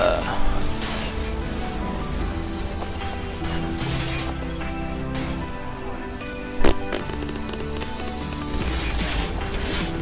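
Gunfire in the video game Metal Gear Solid 5 on PS4, with one sharp loud shot standing out over a dense bed of game music and noise.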